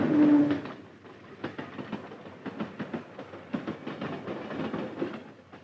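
A freight train on the Southern Pacific Railroad rolls past with a steady rumble and a rhythmic run of clacking wheel beats, fairly close and continuous, with no voices.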